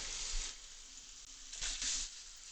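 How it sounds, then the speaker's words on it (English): Steady crackling sizzle of bacon frying in a hot pan, with a couple of louder bursts of spitting fat partway through. "Oh, you can hear the sizzling already."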